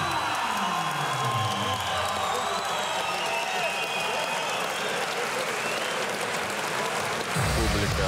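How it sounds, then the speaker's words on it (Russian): A fight-show audience applauds after a bout, dense sustained clapping with scattered cheers and whoops running loud and steady throughout, while a voice talks over it. "Аплодирует."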